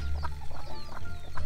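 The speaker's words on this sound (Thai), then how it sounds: "เห็นไหมครับหลังจากนั้นไก่มันก็จะมาครับ" Chickens cluck close by as they gather to eat scattered rice, a steady run of short clucks over a low continuous hum.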